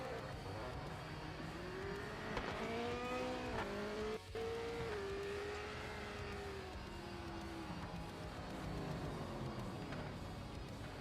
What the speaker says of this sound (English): Hear that, whatever that car is.